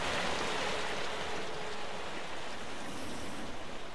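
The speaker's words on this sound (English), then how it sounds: "I couldn't hear you with the water flowing like that" Restored fountain water in the Jade Empire video game rushes in a steady, broad wash of splashing flow, fairly loud and continuous throughout, with no voices over it.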